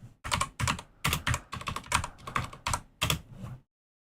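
Computer keyboard typing while coding JavaScript, quick bursts of clicky keystrokes in clustered runs with short pauses, close and clear, then stopping into silence.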